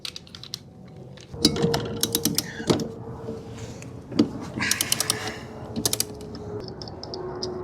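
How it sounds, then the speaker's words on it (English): Ratchet wrench with a 14mm socket turning the center blade nut on an EGO electric lawn mower, giving bursts of quick clicking pawl ticks separated by knocks and short pauses, close up with no talking. "I'm going to be using a 14mm socket to go ahead and remove the middle one."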